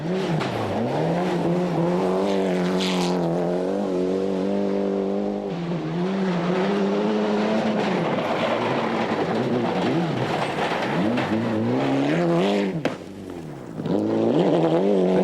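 Mitsubishi Lancer Evo 3 rally car at full speed on a 1995 World Rally Championship stage in Australia, the engine loud and close, rising and falling through gear changes with continuous revving and a brief dip near the end.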